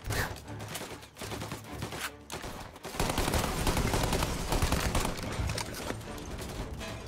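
Gunfire in the video game Mafia: Definitive Edition, rapid bursts of shots building into dense, continuous fusillade, loud and close, without talk.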